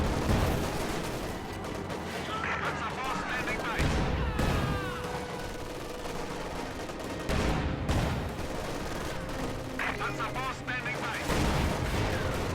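Light machine gun fire in a video game firefight, with rapid bursts of automatic shots and heavy gunfire continuing throughout, fairly loud and dense, with game voice chatter mixed in.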